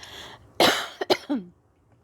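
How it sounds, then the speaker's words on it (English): Two sharp coughs close to the microphone, followed by a short throaty clearing sound, then quiet. "Sorry, I have to cough."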